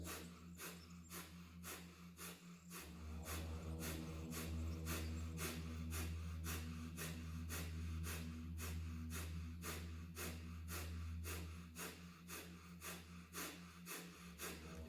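Rapid rhythmic breaths of a fire-breathing exercise, sharp nasal exhalations repeating about twice per second over a steady low music drone, close and even.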